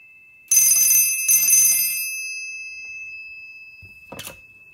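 Two bursts of loud, bright bell ringing close by from an old Stromberg Carlson 1243 telephone, a brief pause between them, followed by silence and a short clunk near the end.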